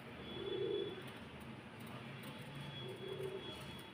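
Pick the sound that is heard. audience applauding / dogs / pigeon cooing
pigeon cooing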